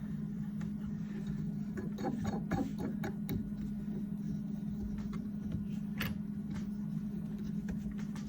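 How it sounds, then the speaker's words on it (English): A CNC router carving a walnut workpiece runs as a steady mechanical drone with a constant hum, light ticking and occasional sharper cutting bursts, moderately loud and without talk. "Obviously I'm doing mine with my CNC just because I got a CNC"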